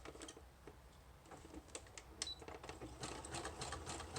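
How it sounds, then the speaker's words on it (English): Sewing machine stitching along the bottom of a pocket on a junk journal page, a faint quick run of mechanical clicks and needle taps, close and unbroken. "I'm sewing it along the bottom of this pocket"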